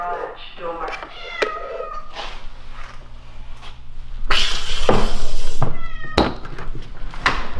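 A cat meows several times in short, insistent calls, close and loud, with some rustling and a louder drawn-out cry near the end.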